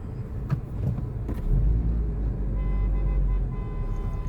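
Busy road traffic where cars can barely get in, with a steady low engine rumble throughout and a couple of short horn toots near the start.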